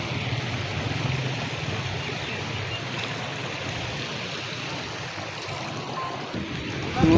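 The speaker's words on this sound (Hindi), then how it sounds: "वो देखिए पानी कितनी तेज़ी से आ रहा है।" Fast-flowing floodwater after heavy rain in Lahore rushes in a steady, dense torrent, constant and fairly close, with a brief louder burst at the end.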